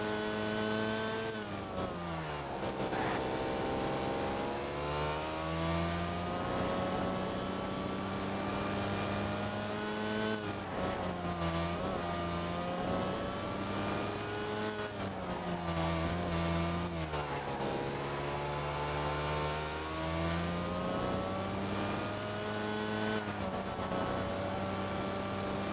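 A street kart laps the La Conca track in Italy, its engine rising and falling in strong harmonic sweeps as it accelerates down straights and drops revs into corners, loud and close throughout with no talking.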